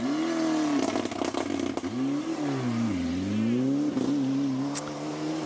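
A Ford rally car on a stage of the 2014 Rallye du Limousin, engine note dropping under delicate braking then rising again with clattering revs, loud and close, with a brief sharp crackle near the end.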